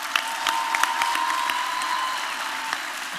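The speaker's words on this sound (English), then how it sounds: "Another round of applause." Audience at a university autumn graduation ceremony applauds after a choir performance, steady crowd clapping throughout with a faint sustained tone in the background.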